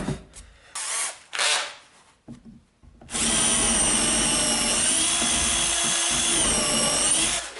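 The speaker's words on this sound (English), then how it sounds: "then I marked the holes on the main body and pre-drilled them" A power drill pre-drills holes in the wooden body of a sandpaper dispenser shelf. Two short bursts come first, then a long, loud, steady whine that runs to the end with no talk.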